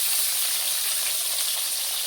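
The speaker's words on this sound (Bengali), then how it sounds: "মাছ বসায় দিলাম, একটু সাতলায় দিব খালি মাছটা" Fish sizzling as it fries in a hot pan, a steady, bright, close hiss of spitting oil that stays even throughout with no voices.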